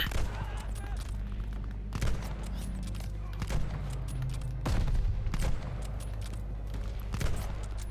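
Gunfire in the Call of Duty: Vanguard video game, with repeated bursts and sharp shots over a constant low rumble of battle and scattered explosions across the scene.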